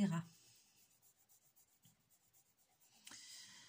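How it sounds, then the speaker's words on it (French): Faber-Castell watercolour pencils scratch on paper in a quiet, rhythmic series of short strokes as colour is layered. The strokes are faint and close, with a brief louder rustle near the start and another near the end. "comme j'utilise mes Faber-Castell aquarellables, en fait, je superpose des couches pour mélanger et faire des effets d'ombre"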